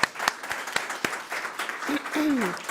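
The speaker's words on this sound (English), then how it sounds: "we give you an additional round of applause." Scattered applause from a graduation ceremony audience, with a few distinct claps standing out and a voice heard briefly toward the end.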